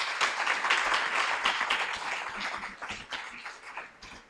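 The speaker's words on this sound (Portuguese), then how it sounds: "damos uma forte salva de palmas a esta proposta de terceira via" Steady applause from a crowd fills the space, a dense patter of clapping that gradually thins toward the end.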